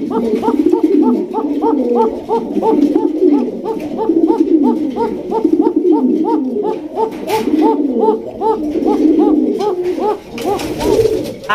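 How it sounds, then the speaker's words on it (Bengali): Domestic pigeons, including red Sirazi, red King and white King breeds, coo steadily and close by in a continuous run of rhythmic, overlapping calls that lasts throughout. "প্রত্যেকটা কবুতর কিন্তু ডাকে"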